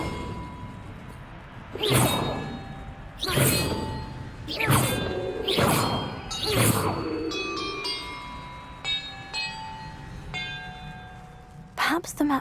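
Bells rung one after another in a Hogwarts Legacy puzzle give five loud, resonant strikes about a second apart, then softer tinkling chimes and a final clang.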